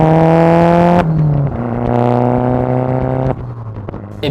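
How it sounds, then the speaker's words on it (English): Tim Thomas's Dirt Bug rally car engine revs in loud steady drones, shifting pitch downward in steps between sustained holds, close and alone. "My favorite thing about the car is the noise."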